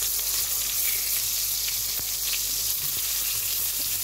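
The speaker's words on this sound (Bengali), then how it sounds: "এখন তেলের মধ্যে দিয়ে একটু কেটে কেটে নিয়েছি যাতে আপনার পটলগুলো ভালোভাবে ভাজা হয়।" Sliced pointed gourd, salted and turmeric-coated with the skin on, frying in hot oil in a pan, giving a loud, even sizzle with faint scattered crackles and no talking.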